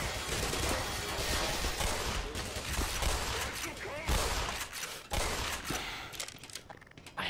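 Sustained gunfire from hostile soldiers in the mines of the game Black Mesa, dense overlapping shots and bursts that run almost continuously at close range, with scattered crashes and a few louder individual cracks near the end.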